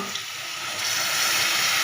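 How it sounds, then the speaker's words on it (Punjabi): A bowl of water poured into a hot cooking pan of soy-sauced chaap gravy gives a steady splashing rush that swells louder toward the end, with no voices. "ਇੱਕ ਕਟੋਰੀ ਪਾਣੀ ਦੀ ਪਾ ਦਾਂਗੇ ਇਹਦੇ ਵਿੱਚ"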